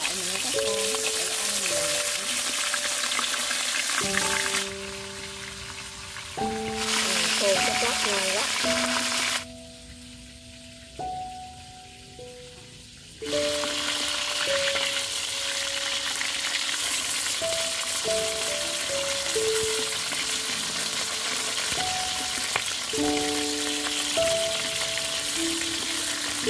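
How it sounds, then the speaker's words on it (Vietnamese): Dried snakehead fish frying in hot oil in a pan, giving a loud, continuous sizzle and crackle throughout, with a person talking over it. "Chảo nóng rồi mình cho dầu vô, mình chờ đợi mình chiên khô"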